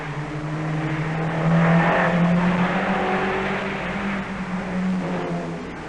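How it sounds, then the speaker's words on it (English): Sunbeam Rapier rally cars race through a fast left-hander, engines droning loudly as they pass, pitch shifting through the corner with a sustained, slightly swelling roar. "The Rapiers show off their handling on the fast and frightening left-hander"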